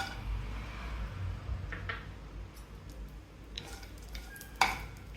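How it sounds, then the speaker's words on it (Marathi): Dry fruits roasting in hot melted ghee in a pan, a soft, low sizzle with occasional scraping and clinks of a utensil, growing a little louder near the end; no talking. "तूप गरम झालेलं आपल्याला दिसतंय आणि आपण यामध्ये आपले ड्रायफ्रूट्स छान तळून घेतल्यावर"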